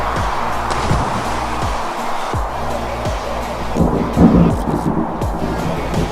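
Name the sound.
thunder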